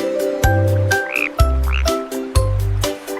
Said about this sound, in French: Une drôle de grenouille saute sur une bûche.